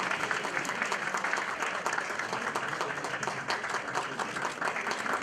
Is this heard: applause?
yes